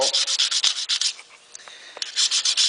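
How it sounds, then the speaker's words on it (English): Metal file worked back and forth across a high spot on stainless steel, giving bursts of rhythmic, bright rasping strokes, up close, with a brief pause in the middle before the strokes resume. "I'm going to bring that high spot down just by filing it"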